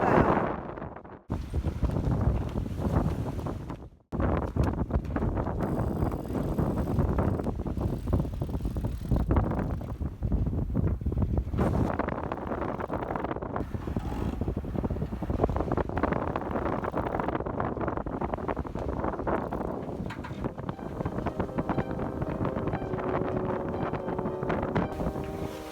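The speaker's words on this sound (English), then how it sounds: "A little bit windy." Wind buffets a microphone on a sailboat at sea in gale-force conditions, a loud, continuous roar with gusts and a couple of brief drops, rushing water beneath.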